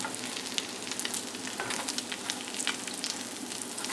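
Crab cakes sizzle and fry steadily in a buttered pan just after being flipped, a continuous crackling hiss with small pops, close and moderately quiet, with no talking.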